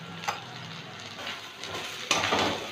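Ginger and cumin powder frying in a pan for a moong dal and ridge gourd dish, a soft steady sizzle with a couple of brighter bursts as the spices hit the oil, close and alone.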